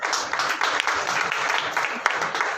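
Audience applauding at a Punjab education department Teacher's Day award ceremony, a steady wash of clapping from a crowd with faint voices underneath.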